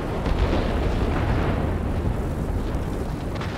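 Bombs exploding in the World of Warplanes combat flight game, a continuous heavy rumbling roar of blasts sustained at steady loudness throughout, with no voices.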